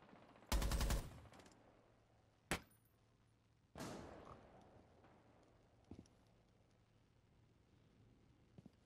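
Gunshots in an online Ubisoft shooter, a loud close blast near the start followed by a few sharper, quieter single shots spaced seconds apart over a low background hum.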